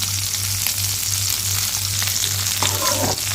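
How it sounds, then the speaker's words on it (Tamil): A handful of mint leaves wilting in a hot pan for mint chutney, a steady close sizzle with faint stirring scrapes and no talk. "புதினா தலையில் நல்லா வதங்கி சுருண்டு வரும் அந்த வர்ற வரைக்கும் நல்லா வதக்கிக்கலாம்"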